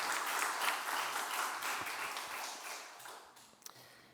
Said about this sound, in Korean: 우리 큰 격려와 축복의 박수 한번 다시 보내겠습니다